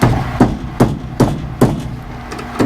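A socket wrench works on a bolt of a 1972 GMC 3500 wrecker truck, giving sharp metallic knocks or clicks about every 0.4 seconds, close and fairly loud, with no talking.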